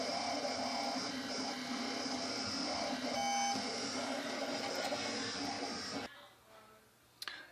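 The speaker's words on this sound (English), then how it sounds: "This is my cutter. And it'll be loud and obnoxious for a while." A heat transfer vinyl cutting machine runs loud and steady for about six seconds, a dense mechanical whir with buzzing tones, then stops, leaving quiet room noise and a brief click near the end.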